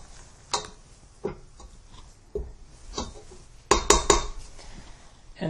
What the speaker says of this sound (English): go ahead and scrape down the sides of your bowl